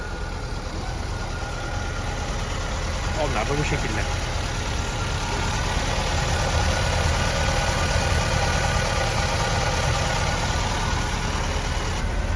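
A motorcycle engine idles steadily and close throughout, a constant low rumble with someone briefly speaking over it.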